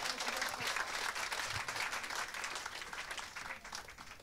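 Audience applause after a band's first live stage set at a 1980 concert in Lo-D Plaza, a dense sustained clapping from a crowd that stays steady and fairly loud, then eases slightly toward the end.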